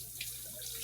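Tap water runs steadily into a sink for washing dishes at a home birthday celebration, giving a short, faint, even splash with no voices.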